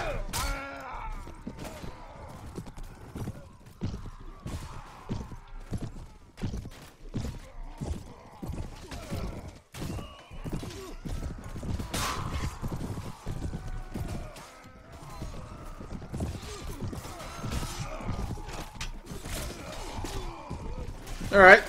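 Horse hooves clatter steadily through a Mount and Blade Full Invasion battle between crusaders and farmers, with a rapid close rhythmic clip-clop and occasional whinnies mixed with game noise.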